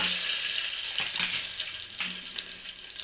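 Mustard seeds, curry leaves and green chillies frying in hot oil, a loud, close, continuous hissing sizzle with a few sharper crackles and stirring scrapes, no voices heard.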